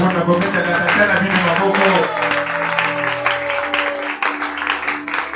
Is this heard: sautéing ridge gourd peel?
no